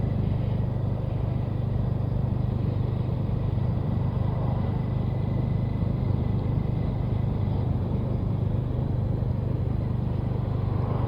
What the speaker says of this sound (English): It's a nice burble from that engine.